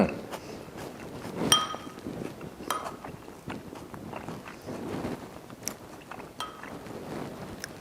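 Someone eats a homemade Korean rice cake (tteok) dish up close, with soft bites, chewing and scattered clinks of utensils against a dish. A faint voice comes through now and then.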